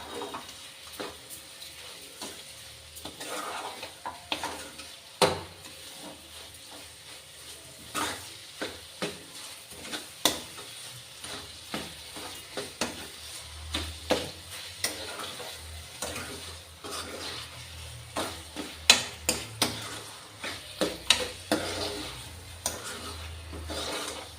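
Carrot halwa with sugar is stirred steadily in a pan on the stove: a close, continuous run of rhythmic scrapes and sticky, sizzling stirs with repeated sharp knocks of the spoon.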